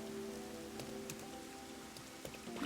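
Steady, constant rain from the video game Master Detective Archives: Rain Code, a faint, even hiss of rainfall with scattered drop patter and a soft tonal hum underneath, with no voices.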